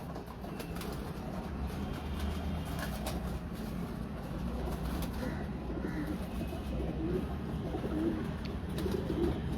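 Breeder pigeons of the Rhino bloodline coo softly and repeatedly in a loft, low murmuring calls layered over a steady background hum, with no talk over them.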